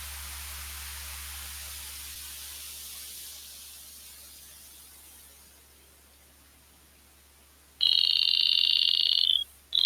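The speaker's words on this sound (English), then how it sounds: "it's like white noise" Loud, steady white-noise hiss fades gradually from a strong start to a quieter level, then a sudden harsh, high-pitched tone bursts in loudly near the end, cuts off briefly and returns.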